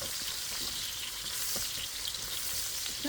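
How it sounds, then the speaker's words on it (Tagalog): Onions fry in a pan until they turn lightly brown, giving a dense, constant hiss with faint stirring taps underneath. "Sibuyas hanggang sa magiging brown."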